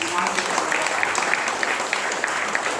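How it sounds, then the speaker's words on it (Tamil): Audience clapping and cheering at a temple gathering in Chennai, a steady dense patter of applause throughout. "அனைவரும் கர ஒளி எழுப்பி ஆரவாரம்"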